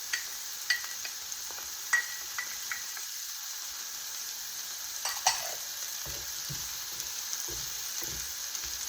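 Garlic fries in a pan for a healthy Brussels sprouts lunch, giving a soft, steady sizzle broken by scattered light scraping and clinking from stirring.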